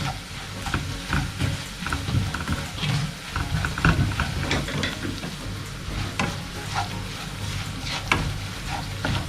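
Coriander powder and spices sauté in a pan for a Nilambur-style dried beef dish, with steady close sizzling broken by repeated scraping and stirring strokes of a spoon.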